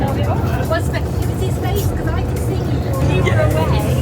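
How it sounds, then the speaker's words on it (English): Small shuttle bus carrying passengers from the Portsmouth terminal to a cruise ship, its engine making a steady low rumble throughout with people talking over it. "you have to get one of these little shuttle buses over to the ship"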